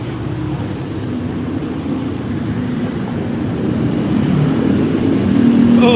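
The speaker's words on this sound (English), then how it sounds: "I think there's some motorcycles over here." Motorcycle traffic fills a Bangkok street with a steady, blended rumble of engines nearby. The roar swells louder toward the end, with wind buffeting the microphone.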